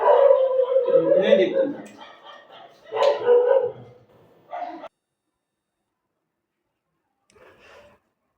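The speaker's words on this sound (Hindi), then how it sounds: "कुत्तों का काफिला आ गया तो ज्यादा शोर कर दिया" A pack of street dogs barks and yelps nearby in several loud bursts, mixed with someone speaking, before falling mostly quiet.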